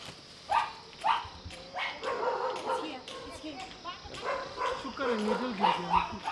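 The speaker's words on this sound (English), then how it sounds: "the dog kind of freaked out, just ran off" A dog in India barks in several sharp bursts, close and fairly loud, with whimpering yips between barks and people talking over it.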